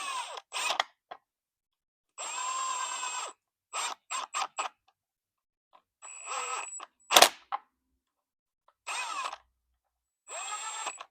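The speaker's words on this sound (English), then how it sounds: "Next, we're just going to snug up the bolts slightly." Power tool snugging bolts on an engine cover of a Gen 5 LT V8 engine, running in several short bursts of whirring separated by pauses, close and clear with no talk.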